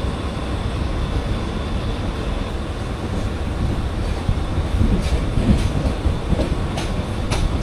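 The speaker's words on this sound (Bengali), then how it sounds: "আমাদের ট্রেন তো মনে হয় 1 মিনিট মতো কোনো রকম দাঁড়ালো, তারপরে কিন্তু হুইসেল দিয়ে ছেড়ে দিল" The Meghna Express, an intercity train, rumbles steadily along the rails with a continuous heavy roar and faint rhythmic clatter, close and constant, with no voices.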